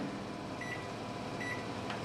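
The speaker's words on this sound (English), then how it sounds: "And stick them in the microwave for" Microwave oven running while heating nachos, a steady close hum with faint whining tones and a soft click near the end.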